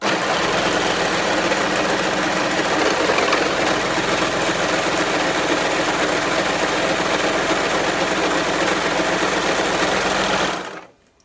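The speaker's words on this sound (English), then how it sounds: "This is overlocking, guys." Singer Heavy Duty 14HD854 overlocker stitching test fabric, a loud continuous high-speed whirring hum running steadily for about ten seconds before stopping abruptly.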